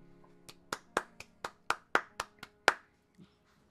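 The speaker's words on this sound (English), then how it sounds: "We got clapping from the other room." About ten sharp hand claps from another room in a loose, uneven rhythm, slightly distant and roomy, then silence.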